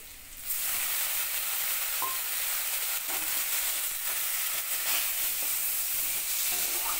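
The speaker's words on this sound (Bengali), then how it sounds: "মশলা দেবো, জিরে, হলুদ আর একটু ধনে। একটুখানি জলও দেবো।" Cumin, turmeric and coriander spices hit hot oil with a splash of water, giving a loud, steady sizzle and hiss that runs unbroken from just after the start, with faint stirring clinks.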